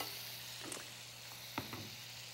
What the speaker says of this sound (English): I'm going to add a little bit of butter also to the pan to give it a little bit of flavor